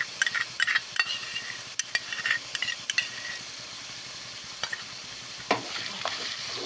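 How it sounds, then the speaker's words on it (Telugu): Ginger garlic paste is stirred into chicken frying in a pan for a spicy Telugu-style chicken fry. A utensil repeatedly scrapes and clacks against the pan over a steady close sizzle, with no talking. "వేసుకొని బాగా కలబెట్టుకోవాలండి"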